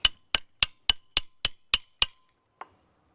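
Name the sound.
hammer knocking a stuck catch can valve loose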